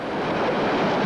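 Tsunami waves surging inland in a broad, steady roaring wash of rushing water, loud and continuous with a wind-like hiss throughout the short stretch.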